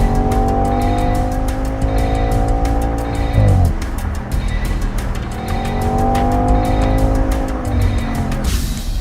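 Audi Quattro all-wheel-drive car driving hard in the rain, a loud continuous engine drone rising through the gears with a shift break, tire noise and wet road hiss throughout.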